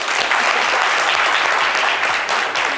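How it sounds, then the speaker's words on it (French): Studio audience applauding on a French television show, a steady, loud wash of many hands clapping that stays dense and even from start to finish, with no talk over it. "On va l'applaudir, s'il vous plaît."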